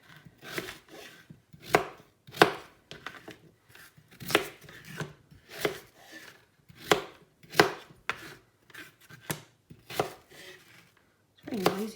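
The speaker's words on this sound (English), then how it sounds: "It's very noisy, this chopping board" Knife chopping potatoes on a noisy chopping board in a home kitchen, sharp wooden knocks in irregular clusters, close and distinct with short pauses between strokes, no talking.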